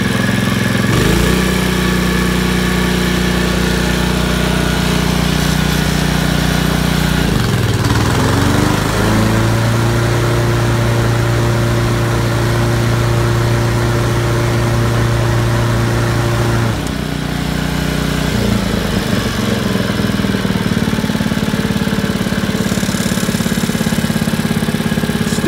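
A Honda commercial lawn mower engine runs loudly up close at high revs, its steady drone dipping and shifting pitch partway through before settling back to a sustained roar, with no voices.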